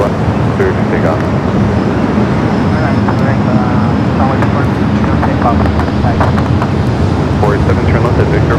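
A Boeing 777-300ER roars steadily on takeoff from runway 24 left at LAX, a loud, continuous broadband engine rumble with wind buffeting, while voices talk over it.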